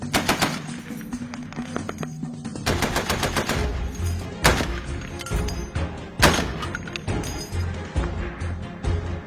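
Several loud sniper rifle gunshots crack out at irregular intervals, each with a booming echo, against a rumbling outdoor background.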